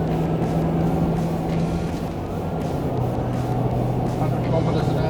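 A diesel vehicle with an automatic transmission accelerating through the 70 to 90 km/h range, heard from inside as a steady, dense engine and road drone with a low hum, while someone narrates over it.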